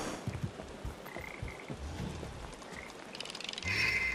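Frogs croak in repeated low bursts within the video game Papo & Yo, set against a steady game ambience, with a brighter chirping layer rising near the end.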